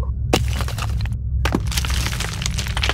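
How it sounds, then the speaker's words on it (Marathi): Stones falling from the air and raining down onto the ground in a horror-story sound effect; dense, loud crackling and clattering impacts in quick bursts, with a couple of brief gaps. "असा वाटत होता की कोणतरी दगडच्या दगड हवेत उडवता आणि ते सगळे दगड पावसाप्रमाणे जमिनीवर पडतात"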